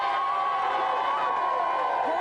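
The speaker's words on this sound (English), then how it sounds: "Give them a cheer." A studio audience in a televised video-game show cheers and shouts steadily after a host calls for applause, a sustained crowd roar with whoops and children's yells, no clear speech.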